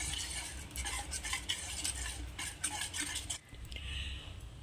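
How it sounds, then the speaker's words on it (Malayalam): Batter stirred quickly in a pan for a teatime snack, brisk repeated scraping strokes with a faint sizzle underneath, fairly quiet and close, pausing briefly before resuming. "ഉടനെ തന്നെ നമ്മൾ ഇതൊന്ന് നന്നായിട്ടൊന്ന് ഇളക്കി കൊടുക്കണം"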